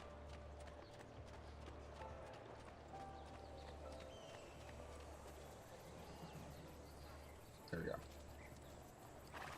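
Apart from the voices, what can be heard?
horse galloping in video game Assassin's Creed 2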